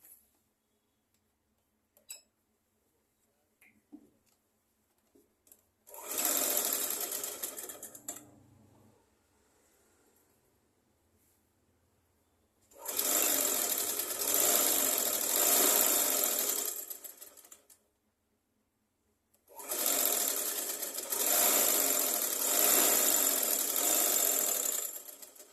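Sewing machine stitching a folded 1.5-inch fabric strip onto a seat piece, three sustained runs of rapid stitching, each several seconds long, separated by quiet pauses with small clicks of handling.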